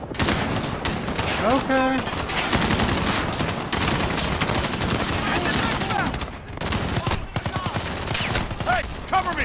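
Gunfire rattles in the Modern Warfare Hunting Party mode, with dense overlapping shots and battle noise running steadily throughout while voices talk over the action.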